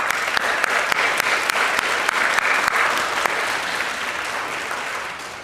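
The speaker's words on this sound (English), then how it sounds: "Please join me in a round of applause to thank all of the inductees" An audience at a chapter induction ceremony applauds the inductees in a steady, full round of clapping, with a few sharper claps standing out, gradually tapering off near the end.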